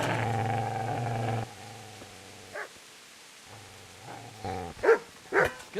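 Dog barking and growling in Kingdom Come: Deliverance, a steady growl at the start, then a few sharp close barks and yelps toward the end.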